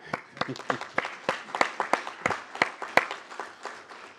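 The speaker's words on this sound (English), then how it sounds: "We can applaud." Scattered applause at a city council meeting, a modest number of people clapping unevenly in distinct, sharp claps that keep going and then taper slightly toward the end.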